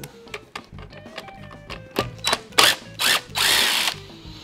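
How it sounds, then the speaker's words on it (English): Power drill backing out the screws that hold the motor to its mount in a ProTeam backpack vacuum. Close, loud whirring bursts come in short spurts, then one longer run near the end, with clicks and handling noise in between. "we're actually going to remove the screws that house the motor to the motor mount"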